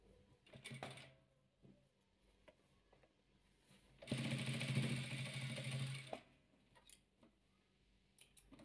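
A sewing machine stitches velour patchwork in one steady two-second run of rapid mechanical whirring, framed by quieter handling clicks and rustles of fabric, close and faint overall.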